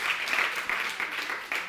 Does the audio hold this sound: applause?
yes